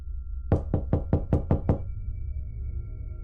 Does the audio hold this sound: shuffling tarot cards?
no